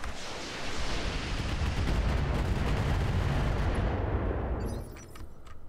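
Sustained gunfire in the tactical shooter game Roguepoint, a dense, loud barrage of rapid shots rolling on for about four seconds before abruptly cutting off into a quieter tail with a few faint clicks.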